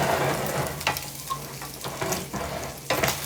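Sausage gravy sizzles steadily in a 10-inch (number 8) cast iron skillet, sausage skins mixed in, with a continuous frying hiss broken by a few brief stirring scrapes.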